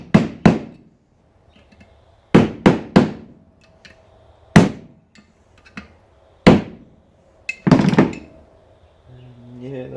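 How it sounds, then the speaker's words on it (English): A hammer strikes a part stuck in a scrap washing machine, loud metallic blows landing in irregular clusters of two or three with pauses between, close by, and a voice briefly at the end. "we'll try with the old hammer"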